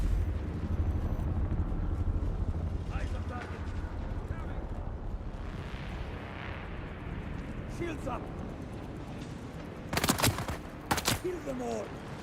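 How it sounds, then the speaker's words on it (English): Gunfire in the Dune Awakening video game: two sharp, loud bursts of shots close together near the end, breaking through a dense, rumbling game soundscape. "Who's shooting at me, man?"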